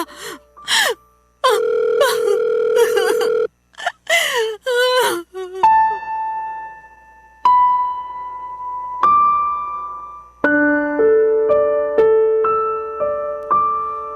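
An unanswered phone call rings as a repeating electronic melody of clear tones stepping between pitches, following a burst of breathy gasps and vocal sounds at the start.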